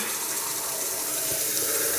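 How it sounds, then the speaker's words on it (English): Water runs steadily from a bathroom tap into the sink during a shave, a loud, continuous rushing splash that stays even the whole time with no voices over it. "So I'll put some water in the tap"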